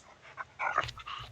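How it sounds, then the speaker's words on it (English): Recorded dog sounds played back during a podcast: soft panting and whimpering yips, brief and mid-level, with no talking over them. "He's playing dog sounds."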